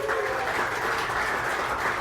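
Live audience clapping at a queer comedy podcast show in Chicago, a steady dense wash of many hands sustained throughout, with no talk over it.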